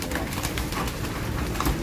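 A pigeon coos softly and continuously from close by, amid outdoor bird-keeping surroundings. A low, murmuring coo carries through a steady, noisy background.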